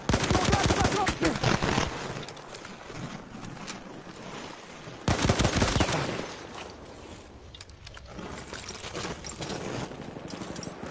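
Video game gunfire in a military objective-capture match, with loud bursts of automatic shots coming in dense clusters over a noisy battlefield backdrop.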